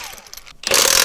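An impact wrench whirring on a Ford Raptor's lug nuts during a brake and rotor job, a short quieter buzz then a loud rattling burst close by.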